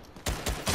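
Rapid gunfire in a Fortnite trio match: three quick, loud shots crack in an even rhythm within under a second, close and dominant.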